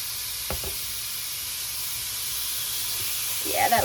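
Small burger patties are set on a large hot cooking surface and start sizzling: a steady hiss of heat throughout, with a soft placement thud early and a louder crackling sizzle rising near the end.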